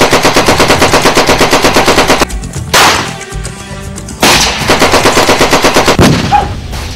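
Loud, close machine gun bursts rattle in fast, even rounds during a battle scene in a Sindhi film, broken by a short pause and a sharp single crack before the rapid firing resumes.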